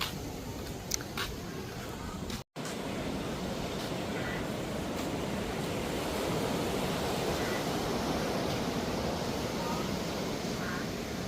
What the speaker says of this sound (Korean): 물소리 너무 좋다. 잠깐 감상하시죠.